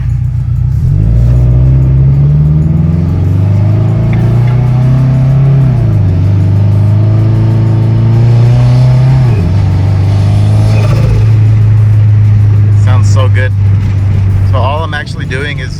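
A built Subaru FR-S engine running about 5 psi of boost runs steadily up close, its pitch rising and falling as it shifts through gears while driving, with a voice talking over it.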